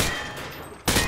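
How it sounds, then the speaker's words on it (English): A rifle fires from the hip in Call of Duty Modern Warfare 2, a dense loud spray of shots that blurs into one roar for most of a second, stops briefly, then picks up again. "He sprayed bullets all over the damn place."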